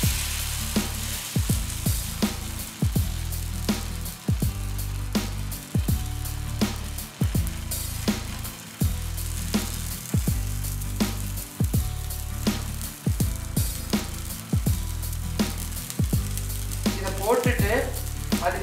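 Small-onion uthappam batter sizzles steadily on a hot griddle, a loud, close, continuous frying hiss with a regular pulsing rhythm and sharp clicks throughout, with no voices.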